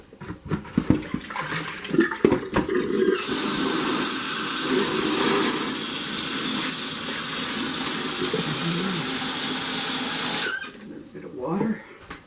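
Tap water pours steadily into a cooking pot of potatoes for mashing, a broad continuous rush lasting several seconds, preceded and followed by brief clatter and handling noises.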